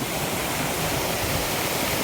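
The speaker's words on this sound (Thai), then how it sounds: "นี่ครับผม น้ำตกครับผม" A waterfall at a natural resting spot rushes in a steady, loud, dense roar of falling water, close and continuous, with no voices over it.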